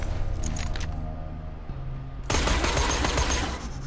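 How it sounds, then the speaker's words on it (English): Gunshots in the video game Borderlands 2: a quiet stretch gives way to a sudden loud burst of rapid gunfire that fills the rest of the moment, close and sustained. "I missed every shot."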